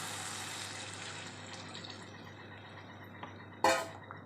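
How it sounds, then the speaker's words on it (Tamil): Water poured into a pot of chicken curry (kozhi kulambu), a soft continuous rushing pour close by that gradually thins out, followed by a short sharp clatter near the end. "இப்போ அதுக்கு தேவையான தண்ணீர் ஊற்றிடலாம்."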